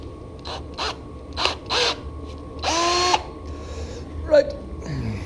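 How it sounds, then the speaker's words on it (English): A power drill spins a cotton swab for metal polishing in a workshop, running in several short whirring bursts of varying length, with one longer run near the middle and quiet background between them. "So we're back to the old Q-tip in the drill again."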